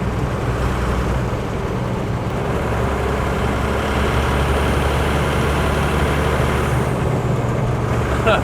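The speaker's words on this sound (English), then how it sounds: "I don't know if you guys can hear that turbo," Inside a Toyota HJ75 Troopy on the move, its turbo diesel gives a continuous deep engine drone with a faint airy whine above it, steady and close, with no voices.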